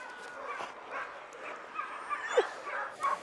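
Sled dogs in Norway yip, whimper and give short barks before a dog sled ride to a Sami encampment. The sound is faint and scattered over a low outdoor rumble.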